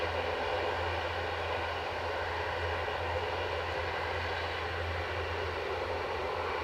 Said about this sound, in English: ATR strumming away.